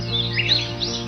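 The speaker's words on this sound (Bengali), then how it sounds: "শুনতে পাওয়া যায় পাখিদের কিচিরমিচির শব্দের ডাক" Bright, high bird chirps repeat over a steady low hum, fairly close and continuous, with no voices, near the sea at Cox's Bazar.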